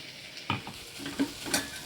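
Onions and tomatoes sauté in a pan for a curry, giving a quiet sizzle with a few soft stirring scrapes.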